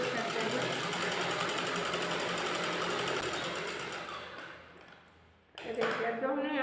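Sewing machine stitching net fabric for a blouse, a dense rapid rattle running continuously, fading and stopping briefly before a short burst of renewed stitching at the end.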